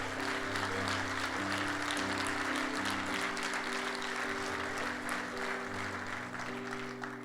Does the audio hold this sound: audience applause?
yes